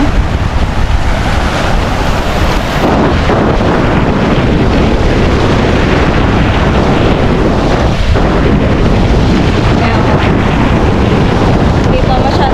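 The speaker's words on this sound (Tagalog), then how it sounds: "Laki ng alon, no?" Large sea waves surging on a windy coast, a dense, constant roar of surf with heavy wind buffeting the microphone, loud throughout.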